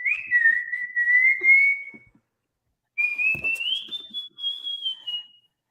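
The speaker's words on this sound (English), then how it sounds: "It's a circus whistle." A person whistles a bright, sustained circus-style tune in two phrases, the first steady and the second gliding upward, with a brief pause between them and no talking.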